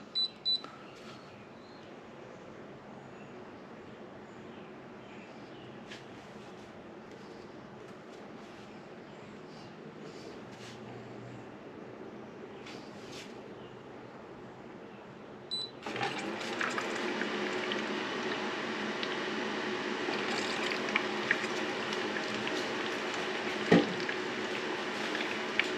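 A Bluetti battery-operated portable ice maker runs in a quiet room. After a long stretch of near silence, a steady whirring machine hum starts about two-thirds of the way through and continues with a few small clicks.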